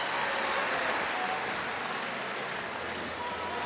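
A crowd at a college wrestling championship semifinal roars in a steady, loud wash of cheering and applause throughout, with no distinct voices rising above it.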